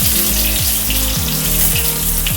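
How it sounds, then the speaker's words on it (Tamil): Mutton sheek kebab pieces frying slowly in oil, a steady close sizzle throughout with faint bubbling, no voices. "நீங்கள் ஸ்லோவிலே வச்சு ஃப்ரை பண்ணி எடுத்துக்கோங்க"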